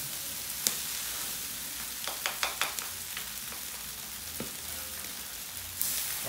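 Arroz carreteiro rice being stirred slowly with a spoon on a plow-disc pan over a wood-fired stove, a steady close sizzle broken by a few sharp metallic scrapes and taps.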